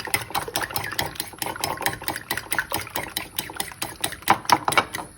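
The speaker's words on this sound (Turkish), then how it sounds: "Yumurtamızı bir çırpalım." Eggs being whisked for fried cauliflower, a rapid run of light clicking strokes against a bowl that is steady and fairly close, with no talk over it.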